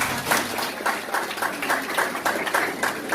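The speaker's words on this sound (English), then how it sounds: "Please give him a round of applause." Audience applause at a university tech panel discussion, a crowd clapping steadily at moderate volume for a few seconds with no speech over it.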